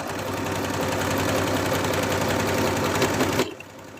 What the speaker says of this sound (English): I'm going to go ahead and sew another line right next to it to thicken it out.